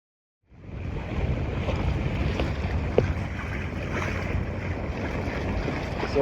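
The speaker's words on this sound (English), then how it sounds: "So we are sailing in fresh breeze." A sailboat cruises in a fresh breeze. Steady wind rush and water wash against the hull form a continuous, moderately loud bed of noise with no talking.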